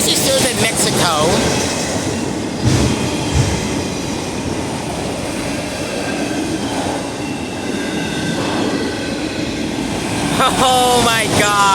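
A CSX freight train rolls past close by with a loud, continuous rumble and wheel noise, while excited voices talk over it near the start and end.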